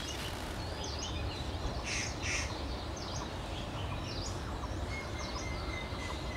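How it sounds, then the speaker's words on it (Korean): Birds chirp and call in quick, repeated bursts over a calm Himalayan lake, faint to moderate, set against a steady outdoor hiss. "지금 새들이 지저귀고 있습니다."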